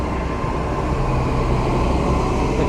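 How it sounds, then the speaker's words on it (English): A road sweeper passes on a street, a steady broadband mechanical rumble with engine drone and brushing that stays loud and even for the whole stretch, with no voices. "Excuse the road noise. We've got a road sweeper going past."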